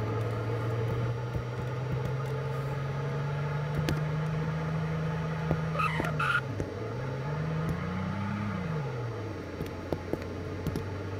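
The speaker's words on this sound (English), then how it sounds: "This is my first classic car with classic game pass in Greenville." A classic car with the classic game pass drives in Roblox Greenville, its steady engine drone holding one pitch, then dipping and revving up and back down near the end, close and alone.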